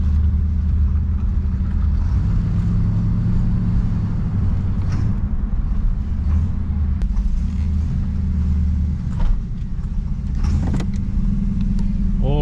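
Heard from inside while driving, a 1968 Oldsmobile Delmont 88 with a 455 big-block V8 and a leaking heater core gives a deep, steady engine rumble, with faint creaks and rattles over about twelve seconds.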